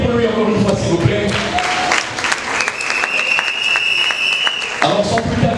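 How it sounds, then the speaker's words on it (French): Loud audience applause at a celebration, dense clapping throughout with some cheering, while voices and background music play under the clapping. "est-ce qu'on peut applaudir pour lui encore une fois s'il vous plaît?"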